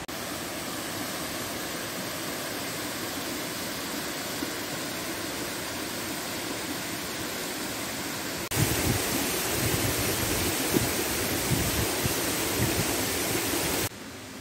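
La Citerne waterfall in Guadeloupe roars as a steady, broadband rush of falling water, continuous and fairly close, growing louder and brighter partway through before easing back.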